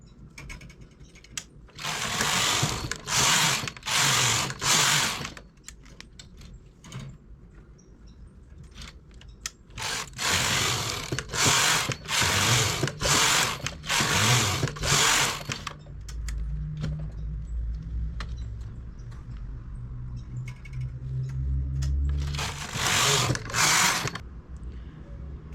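On a knitting machine making baby trousers, the carriage is pushed back and forth in loud bursts of rapid mechanical clatter, several passes separated by brief pauses, with a lower machine rumble between the later strokes.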